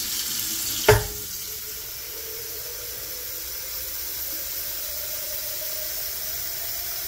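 Tap water pours steadily into a pressure cooker being filled for sterilizing liquid culture, a constant rushing stream after a brief knock at the start.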